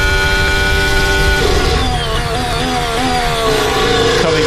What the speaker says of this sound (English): Stuck in 3rd gear, tries to change up. The car and the engine and the gearbox not liking it